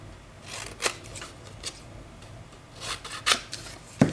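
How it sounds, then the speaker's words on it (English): Scissors trimming the edges off a paper tag for a junk journal, several crisp snips and rustles of paper, close and fairly quiet with no talking. "So I'm just going to cut off the edges."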